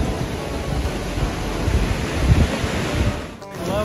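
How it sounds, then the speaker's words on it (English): Waves wash over a rocky beach below cliffs on Block Island, with a loud, rumbling rush of water dragging stones that clatter under a windy roar, no voices. "Love the sound, which is all the rocks when the water goes out."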